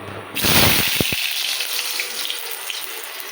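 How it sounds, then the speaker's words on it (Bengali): Potatoes drop into hot oil in a home kitchen, setting off a sudden loud hiss and sizzle that settles into a steady, softer frying crackle. "এখন আলুগুলোকে ভেজে নেবো"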